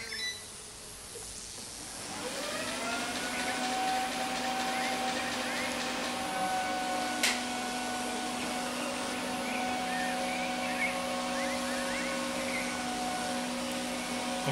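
A Philips HomeRun robot vacuum cleaner starts up and runs steadily, a loud continuous whirring motor drone with a high whine, close by and alone, with one brief click midway.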